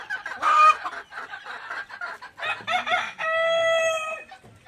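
Large chickens on a poultry farm cluck in short bursts before a rooster lets out a loud, drawn-out crow near the end, all close by with no voices.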